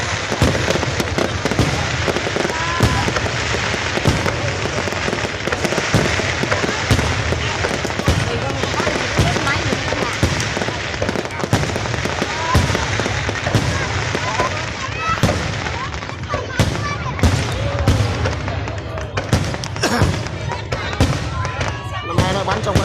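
Fireworks set off at Tiên Lãng produce a dense, continuous barrage of loud crackling bursts and pops, with people talking throughout.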